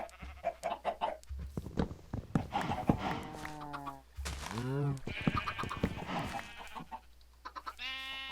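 Cows and chickens on a video game farm, bleating and clucking animal calls in short bursts near the listener, alternating with someone talking over them.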